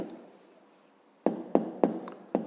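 A pen or marker writes out the answer to a fifth-grade maths area exercise in a handful of short, sharp taps and strokes after a near-silent stretch, close and fairly quiet, with no talk.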